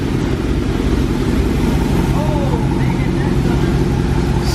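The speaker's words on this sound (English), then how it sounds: "Smooth Hemi." Hemi V8 of a 2021 Dodge Charger Scatpack widebody idling steadily nearby, a continuous low rumbling drone that holds even throughout with no revs or speech.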